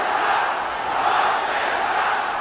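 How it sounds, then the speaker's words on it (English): A basketball arena crowd roars during a fight on the court, a loud, sustained surge of massed shouting and cheering that holds steady throughout. "I don't remember when this crowd was aroused as much"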